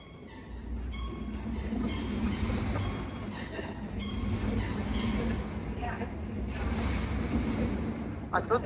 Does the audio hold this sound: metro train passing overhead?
yes